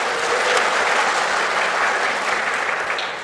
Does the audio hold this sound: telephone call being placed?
no